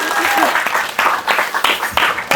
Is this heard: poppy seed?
no